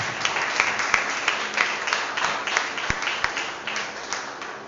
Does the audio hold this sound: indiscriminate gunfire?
no